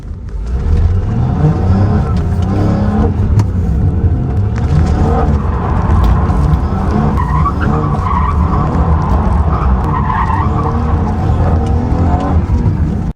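A BMW M240i drifts sideways around a race track during a track day, with a loud sustained engine roar and tire squeal that stays heavy and continuous for the whole stretch.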